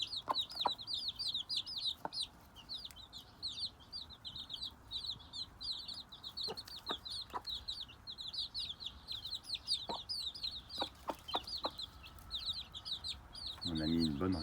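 A brood of chicks cheeps continuously in busy high peeps while a mother hen gives scattered low clucks as they eat grain, near and steady, with a brief rustle or voice at the end.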